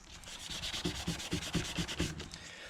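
Steady back-and-forth scrubbing of oiled bolts to strip surface rust, a rhythmic rasping of about ten even strokes over a few seconds, close and moderately loud with no talking.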